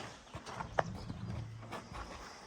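Horse hooves clip-clop at a village in Rostoky, Ivano-Frankivsk region, as a stallion is unloaded, with a few distinct hoof strikes, one sharp and loud, over a low steady background hum.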